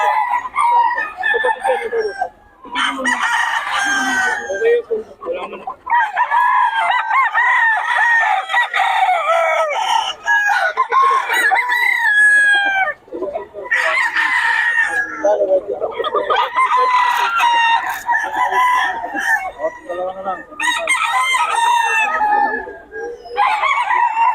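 Young roosters (stags) offered for sale crow repeatedly in loud, close bursts, with clucking between crows and some faint talk in the background.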